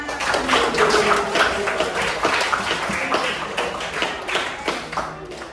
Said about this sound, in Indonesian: Tepuk semuanya